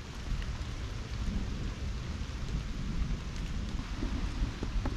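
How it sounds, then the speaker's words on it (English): Steady outdoor rainfall with dense pattering drops and a low rumbling wash underneath, continuous and fairly close, with no voices. "You should be able to see all the raindrops come in"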